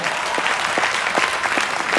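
A church congregation at a preaching service claps in praise with a steady rhythmic beat of many hands, loud and close, over a murmur of voices.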